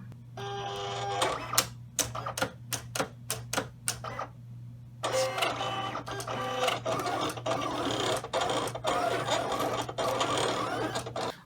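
A cutting machine slices an infusible ink sheet with a steady hum and rapid mechanical clicks and carriage stops, a bursty stuttering pattern in the opening seconds giving way to continuous busy motor work, close and fairly loud.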